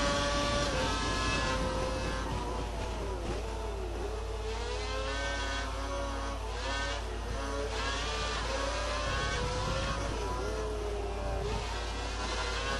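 Formula One car engine from the F1 2012 video game screams continuously from cockpit view, pitch rising and falling through gear changes, loud and steady throughout with no talking.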